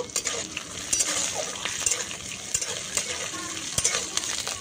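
Three dried chillies, five garlic cloves and chopped ginger fry in hot oil, with a steady close sizzle punctuated by frequent clinks and scrapes of a utensil stirring the pan.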